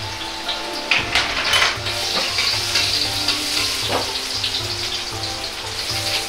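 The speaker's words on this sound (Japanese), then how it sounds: "鍋に大さじ1の油を入れ、 生姜を炒めます。" Steady oily sizzling of ginger in a tablespoon of oil in a wok with scraping stir motions, a continuous crackle close by with no talking.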